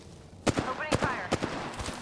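Gunfire in a video game: a handful of sharp, loud shots spaced about half a second apart, each with a short ringing tail, over low background noise.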